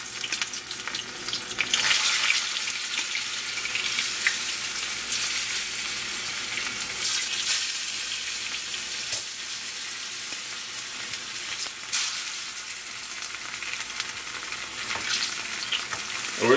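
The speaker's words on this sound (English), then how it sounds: "So we're gonna fry off some plantain," Sweet plantain frying in hot oil, giving a loud, continuous close sizzle with crackling bursts that holds steady the whole time, with no voices.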